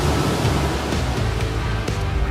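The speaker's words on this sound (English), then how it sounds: "Just imagine being alone in there as giant waves come crashing towards you." Giant storm waves crash at a lighthouse, a loud, continuous roar of surf and spray that swells in dense broadband rushes without any voices.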